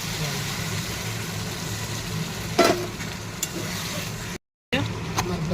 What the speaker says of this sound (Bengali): আর এবারে পটল ঢেলে দিয়ে ভালো করে নাড়াবো।